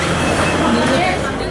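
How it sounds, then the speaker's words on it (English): Inside a train travelling to Stockholm, a loud steady rumble of wheels and carriage noise fills the space, with faint squeals and a continuous roar and no clear pauses. "in the train going to Stockholm"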